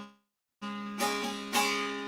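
A three-string fretted instrument like a guitar, two strings low and one high, plucked after a short silence: a few bright, ringing notes sustaining close and clear.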